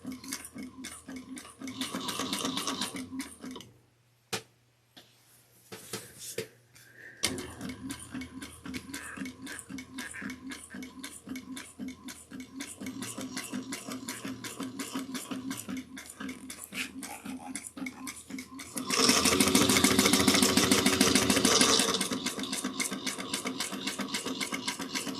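A sewing machine runs in steady rapid ticking bursts while back stitching a drawstring satchel, pausing briefly near the start and growing louder and denser for a few seconds near the end, close by with no talking.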